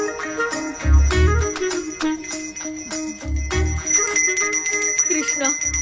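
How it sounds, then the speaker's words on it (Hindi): A bell ringing in a Hindi-dubbed action film scene, bright metallic tones repeating through the stretch alongside dull low thumps and a background score. "मुझे जल्दी आओ बोल के यहाँ पर घंटी बजा रहे हो"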